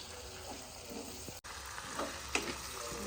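Spices for a dal tempering crackle and sizzle in hot oil, a soft continuous fry with occasional stirring scrapes, fairly quiet and without talking.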